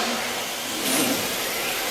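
A drifting car's engine revs at mid pitch with steady broadband roar, swelling briefly in the middle of a short burst.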